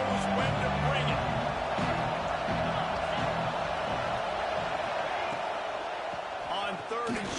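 Loud, dense stadium crowd roar at a college football game between Alabama and Iowa, a sustained wall of cheering with scattered whoops and claps under a commentator's voice.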